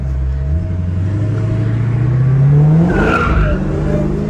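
A Dodge Challenger Hellcat slides sideways with a loud engine roar climbing in pitch, then tires squeal sharply in a brief skid near the end.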